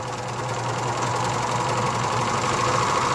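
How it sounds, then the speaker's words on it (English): A serger stitches steadily along a fabric edge on a small zippered pouch, a loud, close, continuous mechanical whirring hum with a rapid even rhythm throughout. "then we're going to serge this edge straight"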